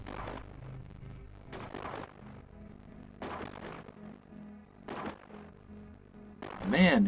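Ship weapons firing in the space colony game Space Haven, a series of booming bursts spaced a second or so apart over a low background hum, ending with a louder, brighter blast.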